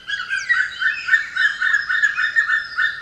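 A white-tailed eagle calls in a steady series of sharp, squawking notes, repeated in a rapid rhythm for several seconds. The calls are clear and fairly loud, with no talking.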